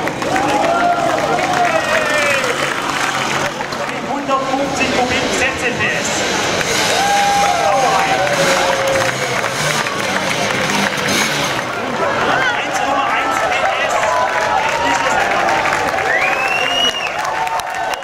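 Crowd applause at a north-south crossing event through Schwäbisch Gmünd, a dense steady wash of clapping that fills the whole stretch, loud and close, with crowd babble and some whistling or cheering mixed in.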